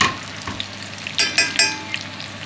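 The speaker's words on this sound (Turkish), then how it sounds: "Son saplarımızı da kızartalım arkadaşlar." Cauliflower stems frying in oil in a home kitchen pan, giving a steady close sizzle with scattered sharp crackles and pops that cluster near the end, with no talking.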